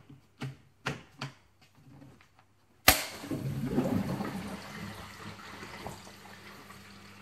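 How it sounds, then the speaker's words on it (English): A Fluval FX4/FX6 aquarium canister filter auto-primes: a few soft clicks, then a sudden burst into continuous gurgling, rushing water as it fills and purges air, close and moderately loud. "During this period, the filter may make a lot of noise"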